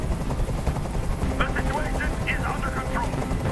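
A helicopter in the video game Detroit Become Human, with constant loud rotor thumping and engine rumble running throughout while a voice speaks briefly over it.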